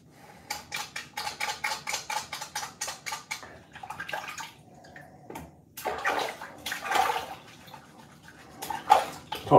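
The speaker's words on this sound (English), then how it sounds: "washing my arse in the sink" Splashy, rhythmic sloshing and trickling of soapy water in a bathroom sink during washing, close and uneven with short pauses, and no talk.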